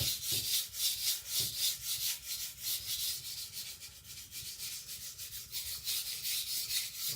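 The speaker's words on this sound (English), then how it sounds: "just to see if I can get the knife sharp off the stone" A kitchen knife is drawn across a whetstone at a steep angle to raise a burr, producing a quick, regular series of close, quiet scraping strokes, roughly two per second, with no talking.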